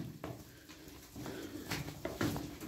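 Sütbeyaz pedigree game pigeons, freshly brought from their coop, give soft low cooing calls. The coos come in a few faint, murmuring bursts against steady background noise.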